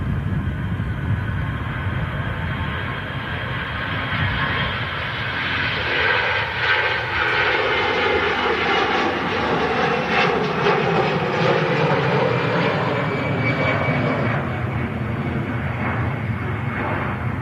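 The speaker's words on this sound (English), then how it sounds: "Landing gear going up there as well on the EasyJet." An EasyJet airliner takes off at Manchester Airport, a loud sustained jet engine roar that swells and shifts in pitch as it climbs and passes, continuous for the whole stretch without speech.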